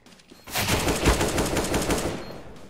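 Rapid automatic gunfire from Counter-Strike: Global Offensive, a dense sustained burst starting after a brief quiet lead-in and continuing loudly to the end, with no talk.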